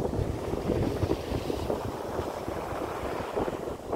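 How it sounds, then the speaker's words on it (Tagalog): Strong wind blasting across the microphone at a seaside spot near Mayon Volcano, with a constant low rumble, mixed with distant surf, unbroken and loud throughout. "Lakas ng hangin."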